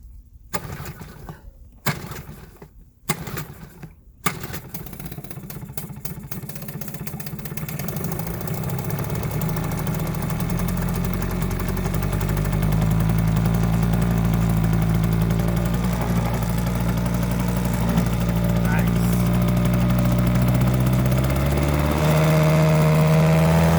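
A Hangkai outboard motor starts after a few sharp pull-cord yanks, then settles into a steady, loud, close idle that runs on continuously.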